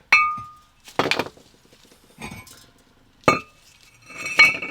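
Four sharp metallic hammer strikes on a rear brake part of an Audi B5 S4, spaced about a second apart, each ringing briefly with a bright clang, close and loud against a quiet background.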